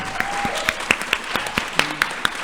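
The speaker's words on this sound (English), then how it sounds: "also another big round of applause for the first panel" An audience at a City Hall panel event gives a round of applause, with individual claps standing out in a steady patter.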